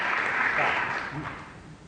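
Audience applause at a talk on employee motivation, a steady broadband patter of clapping that holds fairly even for under two seconds before easing slightly.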